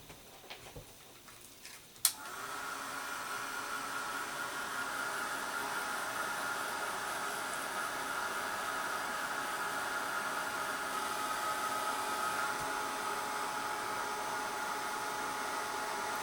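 A heat embossing tool blows steadily over a card sheet pressed with a Tim Holtz birch embossing folder, switching on with a click about two seconds in and then holding a loud, even airy whoosh alone.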